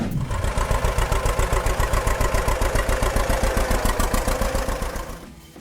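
A John Deere Model A tractor engine running, a loud close two-cylinder putt-putt that beats in a steady rhythm and then fades away near the end.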